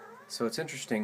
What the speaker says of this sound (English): pardon my cat